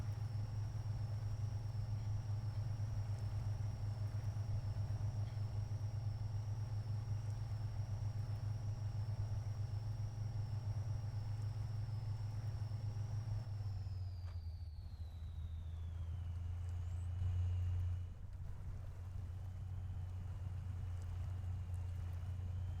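A Dodge Ram pickup truck engine runs with a steady low idling drone that dips slightly in pitch partway through, then settles again, continuous and unaccompanied by voices.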